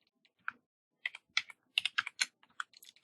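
Keys clatter on a computer keyboard in short, irregular bursts of quick, crisp taps, close and fairly quiet, with no one talking.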